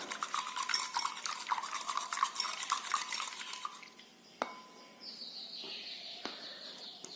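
A spoon stirs a milk mixture into beaten egg in a bowl for a one-egg pudding, giving rapid rhythmic scraping and clinking that fades out halfway, followed by a few faint taps and a soft trickle.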